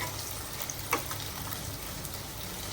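Vadas frying in a pan, giving a steady, even sizzle that carries through the whole stretch with one brief brighter crackle partway in; no one speaks.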